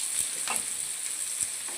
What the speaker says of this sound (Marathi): हा आता कांदा छान परतून घेणार आहे मी